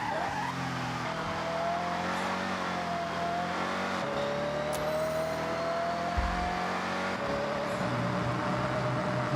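Car engine in the Forza Horizon racing game, held at a steady drone with slowly rising pitch as it accelerates, plus a brief tire skid; no talking.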